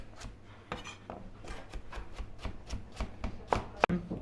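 A knife cutting carrot into strips on a board in a field kitchen, a quick irregular series of close, crisp chops with a couple of sharper knocks near the end.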